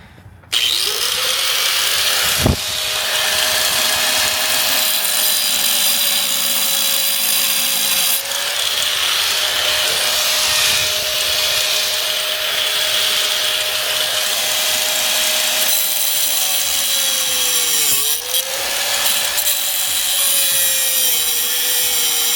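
A power tool cuts steadily during a three-piece wheel rebuild, a loud sustained motor whine with a grinding edge that dips in pitch under load a few times and briefly pauses, heard up close.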